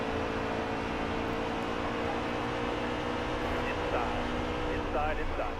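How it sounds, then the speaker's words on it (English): A race car engine labours and strains out of a corner in the NASCAR Heat 3 video game, an Xfinity race at Kansas, droning steadily with other car noise and faint pitch sweeps. "Engine struggling so badly coming off the corner."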